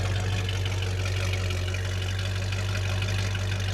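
A vehicle engine idles steadily nearby, a constant low rumble with exhaust noise and no talking.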